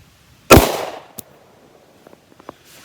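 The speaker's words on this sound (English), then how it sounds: "I figured I'd step a little closer to shoot this thing." A single loud gunshot fired at close range at a bulletproof-wrapped gift outdoors, one sharp crack with a short fading tail, followed by faint small clicks and rustles.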